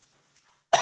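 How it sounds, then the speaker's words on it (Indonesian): A single short, sharp cough bursts out close to the microphone after near silence, abrupt and brief during a talk. "batuk"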